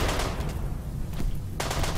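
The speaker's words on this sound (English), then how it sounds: "This incendiary launcher." Incendiary launcher fire in the video game Rimworld: dense, noisy burst-like thumps and crackles over a continuous rumbling bed, with a fresh sharp burst near the end, no talking.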